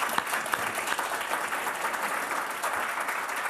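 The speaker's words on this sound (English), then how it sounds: "So if we could give them a round of applause," A room of attendees at a higher education reform event with Senate Education Committee Chair Lamar Alexander gives a steady round of applause, a dense even patter of many hands with no speech.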